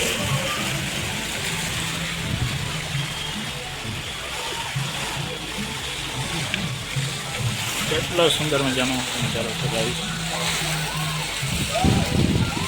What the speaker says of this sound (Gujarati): તમે જોઈ શકો છો અહીંયા પગથિયામાંથી પણ પાણી આવે છે